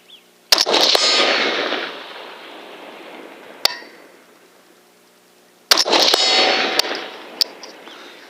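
At an outdoor shooting range, rifle shots strike a distant steel hanger target: two loud, sharp cracks, each followed by a long, fading metallic ring, with a small faint ping in between.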